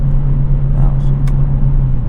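Kia Stinger GT2 engine revving on a downshift, a loud steady in-cabin drone with a brief rise in pitch partway through, close and continuous; a voice is faintly present.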